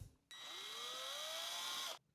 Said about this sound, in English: Actually, I have the drill.